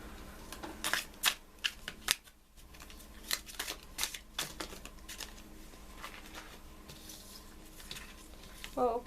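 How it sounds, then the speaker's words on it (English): A Wild Unknown Tarot deck is shuffled by hand up close, giving soft, irregular riffling and flicking card noises in short bursts against a quiet room. "I will be shuffling on camera today for you guys."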